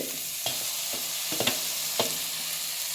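Onions and ginger sauté in a pan of AMC cookware for coconut milk ghee rice, a steady broadband sizzle with a few sharp spoon-stirring scrapes and taps breaking through at a close, even level.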